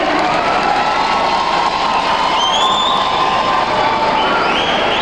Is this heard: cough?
no